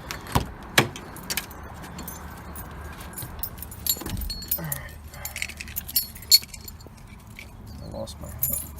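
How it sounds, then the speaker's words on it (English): Car keys jangle and clink at the ignition of a Nissan 240SX with an RB20 engine that won't start: scattered, close metallic rattles with a few soft thumps over a low background hum. "I'm gonna go put the key on and crank it and see if I can hear the ignition tick."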